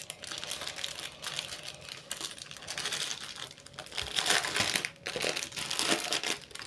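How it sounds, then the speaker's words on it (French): Steady crinkling of a plastic sachet holding diamond painting drills as it is opened up close, with small rattling clicks of the drills and denser rustling bursts toward the end, no talk. "Alors, je vais ouvrir le sachet."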